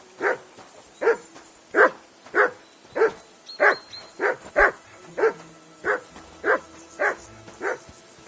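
A dog barks repeatedly in a steady rhythm, about a dozen sharp, evenly spaced barks close by with little else around them.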